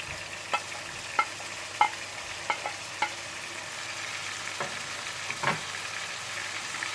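A spatula stirs and scrapes a kabab mixture with onions and green chillies on a hot tawa, giving sharp scraping clacks at uneven intervals over a low, steady sizzle, with no talking.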